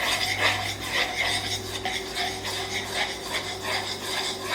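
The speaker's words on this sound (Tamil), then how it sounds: "நல்லா கிண்டி விடுப்பா." Batter for a chocolate lava cake, thinned with a little milk, stirred in a bowl: steady scraping and swishing strokes of a spoon against the vessel, close and continuous with a rhythmic texture.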